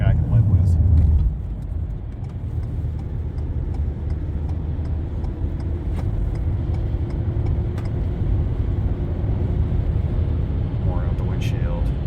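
A Ford Maverick pickup cruising on the highway, heard from inside the cab as a steady broadband road and engine rumble with faint rattles and clicks throughout.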